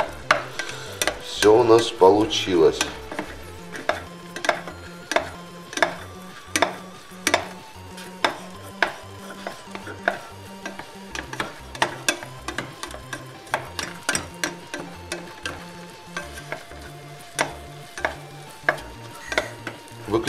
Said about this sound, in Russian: Главное быстренько перемешать